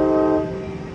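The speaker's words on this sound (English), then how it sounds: "Amtrak 536 Capital Corridor train" Amtrak Capital Corridor train 536 pulling out of Emeryville station, bound for Sacramento and led by locomotive 8302, sounds a steady, loud horn-like tone that fades slightly as it moves off.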